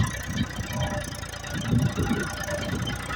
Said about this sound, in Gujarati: આ અમારું બીજું ટ્રેક્ટર હાલ્યું આવે છે.